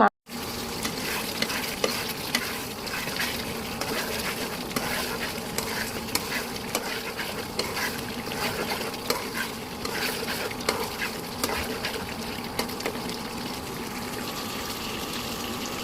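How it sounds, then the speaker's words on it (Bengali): Chicken stir-fried in a pan with a blended spice paste for rezala gives a steady close sizzle and frying hiss, with frequent scraping stirs throughout and no voices. "পুরো পেস্ট দিয়ে আমি এবার সুন্দরভাবে মাংসটাকে কষিয়ে নিব"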